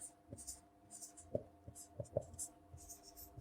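Pen scratching on paper, faint irregular strokes and taps in quick short bursts, close by in a quiet room with no talk.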